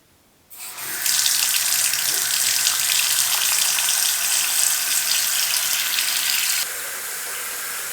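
A newly installed bathroom sink faucet is turned on and runs a steady, loud stream of water into the basin for several seconds, then drops to a softer flow near the end.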